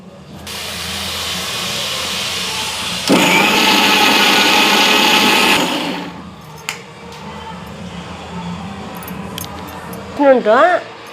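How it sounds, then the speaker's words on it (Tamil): A home mixie grinder grinds coconut and other chutney ingredients with a close, harsh whirring hum that jumps louder partway through, then cuts off after about six seconds. A brief warbling sound comes near the end. "நான் மிக்சியில் அரைக்கிறதுக்கு தான் போடுறேன்"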